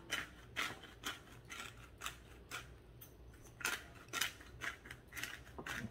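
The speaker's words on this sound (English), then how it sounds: "Cracked black pepper." A pepper mill grinds cracked black pepper in a steady series of about a dozen short, crisp grinding bursts. The bursts are close, fairly quiet and evenly spaced, with no talking.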